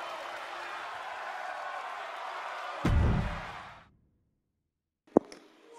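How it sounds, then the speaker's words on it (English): An arena crowd roars in the wrestling game WWE 2K22, a dense, sustained wash of cheering that swells with a thud, then fades out to silence before a sharp slam and a brief renewed burst. "The sound of this crowd is deafening"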